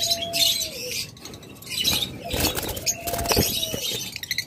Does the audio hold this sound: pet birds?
yes